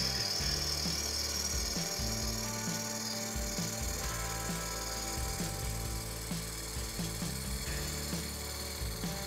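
A gouge makes a push cut along the outside of a wooden bowl turning on a wood lathe, giving a steady close scraping and rasping sound with a rhythmic low hum from the spinning lathe underneath.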